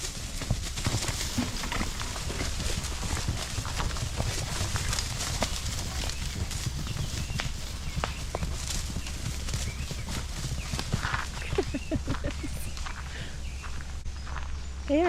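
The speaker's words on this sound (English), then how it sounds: "Here they come again. Crazy horses." Several homestead horses running loose, hooves drumming in a continuous rapid clip-clop over a steady outdoor rumble, with faint voices now and then.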